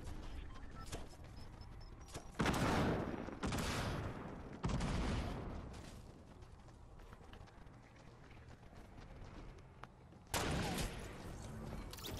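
Gunfire in a video game, a few loud, sharp shots standing out in separate bursts over a quieter, busy background, with no talk over them.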